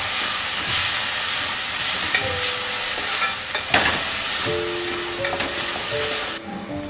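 A spoon stirs dried parsley, basil and mint through a sizzling pan of pasta sauce, giving steady frying hiss with scraping strokes throughout.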